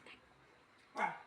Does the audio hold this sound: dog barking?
yes